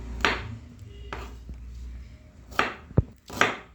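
Vegetables being cut on a boti blade, with a few distinct close chopping strikes spaced irregularly, including a sharp knock, separated by quiet pauses.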